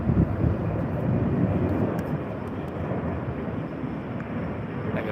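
A Boeing 737-700 airliner departs for Melbourne, its jet engines giving a steady, broad roar that stays loud and constant throughout, with wind buffeting the microphone.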